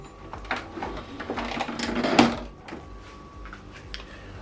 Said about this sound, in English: To replace the ink, you need to open up the printer